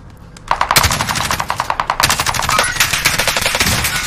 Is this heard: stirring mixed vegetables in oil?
no